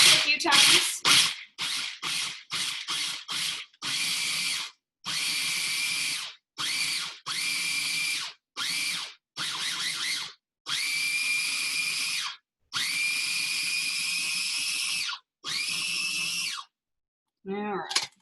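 A food processor on its chop setting pulsing dry ingredients for a brunch dish, a series of loud whirring motor bursts, short at first then longer, separated by silent gaps.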